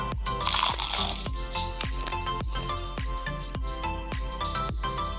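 Crunchy fried lumpiang shanghai spring rolls, eaten after cooling, give repeated sharp crisp bites and chewing crunches at a steady rhythm, close and loud, with no voices.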